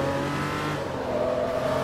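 A Lamborghini engine revving hard during a race in Forza Motorsport 3, a loud, sustained high-pitched roar that holds steady without talk.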